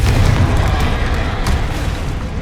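Confringo blasting-spell explosion from Hogwarts Legacy hits as a loud, sustained booming blast with a crackling rumble that fades gradually over about two seconds.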